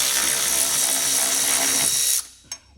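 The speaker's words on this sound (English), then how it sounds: "I will start removing those bolts." A power tool buzzes continuously at high speed while loosening bolts on a Toyota Prius hanger, then cuts off abruptly, followed by a brief metallic clink.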